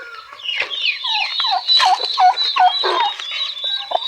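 Newly hatched chicks and poultry call close by in a loud, continuous chorus of shrill peeping and chirping, with notes overlapping and no talking.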